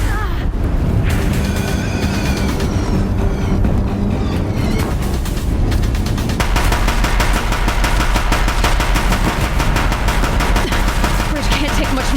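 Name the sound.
Deathbringer machines firing guns in video game Horizon Zero Dawn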